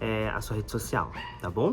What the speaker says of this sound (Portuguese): sinto muito se vocês ouvirem bastante latida aí no fundo do vídeo